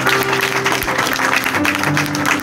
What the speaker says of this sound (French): Est-ce qu'on peut applaudir le roi, mes amis?